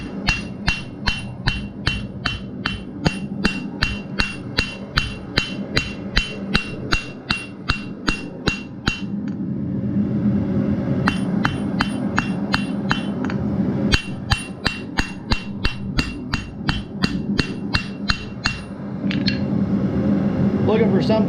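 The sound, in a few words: hammer flat blows forging a fire steel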